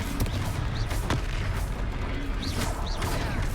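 A Confringo blasting spell explodes in Hogwarts Legacy with several sharp booming blasts amid steady battle noise, with short whooshing bursts scattered through.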